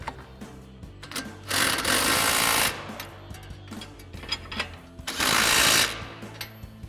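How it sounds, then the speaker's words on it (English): An impact wrench with a 24mm socket tightens nuts on a Camaro coil-over, firing in two loud rattling bursts of about a second each, separated by quieter clicks and handling noise. "grab our 24mm socket on our impact and our 21mm wrench and tighten"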